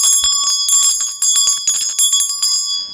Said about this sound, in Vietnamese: Chuông qua đây.